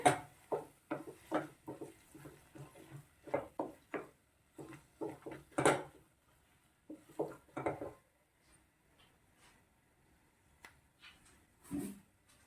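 Potatoes being stirred with masala in a pan: a series of soft, close scraping and tapping strokes of a spoon against the pan, in uneven bursts with quiet gaps.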